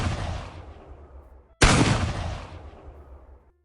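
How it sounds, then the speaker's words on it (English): Two shotgun blasts ring out in a quiet night scene. Each is a loud, sharp crack close by that decays in a long echo, with a short gap before the second, stronger shot. "From the bushes emerged a hooded man holding a shotgun. 2 shots rang out into the quiet night sky."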